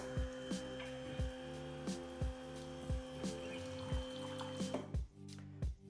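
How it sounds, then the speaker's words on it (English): Water dispensing from the rear outlet of a Meraki espresso machine: a steady mechanical hum with regular pulsing thumps, roughly one per second, and a soft trickle, close by and fairly quiet. "This little thing at the back is the water outlet."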